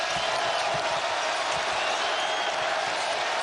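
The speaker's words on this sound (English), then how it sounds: "Crowd not subdued anymore." Basketball arena crowd at a Villanova versus UConn game, a steady loud roar of cheering and noise filling the hall without a break.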